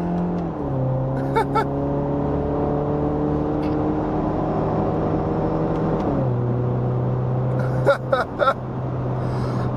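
A Subaru Impreza with a Nameless Performance exhaust drives close by, its engine droning in steady tones that climb through the gears, with a shift and a short rev burst, plus a few clicks and breaths.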